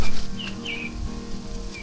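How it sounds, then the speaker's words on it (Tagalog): On a mountain trail, a few short, high bird chirps sound at a moderate distance over low background rumble. "Si ibon. Ibon."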